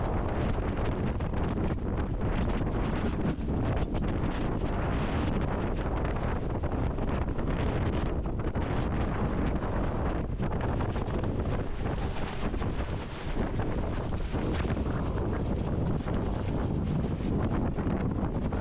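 Strong wind at sea around an engineless steel sailboat under genoa in 40-knot gusts, a loud continuous roaring buffet of wind over the microphone with waves beneath, steady throughout.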